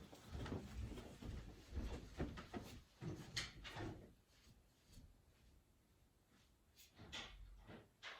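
A pantry door in a home is opened, a few soft knocks and clunks with a light latch and creak close by, then quieter rustling movement around the room with no talking.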